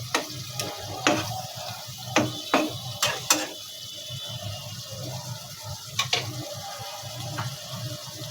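Pangas fish fries in a pan with a steady low sizzle. Sharp scraping clicks from a spatula stirring it recur at irregular intervals, close and moderately loud, with no talking.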